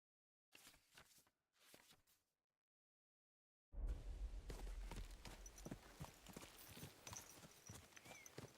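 Horse hooves clip-clop in the video game Kingdom Come: Deliverance 2, opening with two short bursts of steps, then a pause, then a steady run of close hoofbeats.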